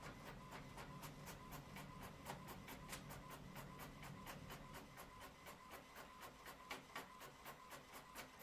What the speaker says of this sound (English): Somebody's printing something.